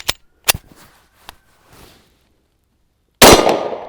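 A Glock 23 pistol firing 9mm rounds through a 9mm conversion barrel fed from a 40 caliber magazine, with a few sharp shots and clanks early on, then one loud, close blast that rings out at the end.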